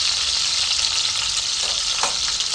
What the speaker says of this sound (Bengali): এবার লঙ্কাটা পাঁচফোড়নের সঙ্গে ভালো মতন ভাজবো